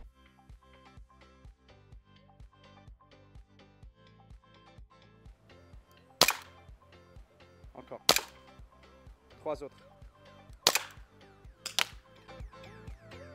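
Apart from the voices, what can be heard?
airsoft gun shots fired at a wall target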